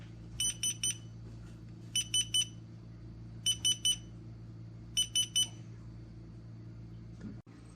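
An LED digital hourglass timer alarm goes off in four evenly spaced bursts of three quick high beeps each, clear and close over a low steady room hum.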